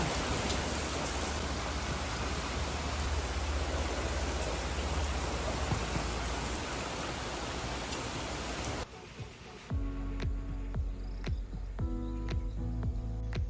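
Heavy rain pouring down at boat docks, a loud, dense hiss of drops that fills most of the clip before abruptly giving way to quieter, scattered sounds.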